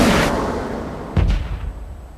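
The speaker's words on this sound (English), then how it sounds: "a series of sonic booms were heard exploding across California and" Sonic booms over California and Nevada in 2003: a loud, deep blast followed about a second later by a second heavy thud, each rumbling away quickly, with no voices.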